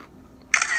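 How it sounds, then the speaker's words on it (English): A digital camera shutter fires in an adjacent room with a bright flash: a sudden sharp, bright click at the end after near silence, leaving a brief hissy tail. "The sound of a digital camera shutter, accompanied with a blindingly bright flash coming from an adjacent room"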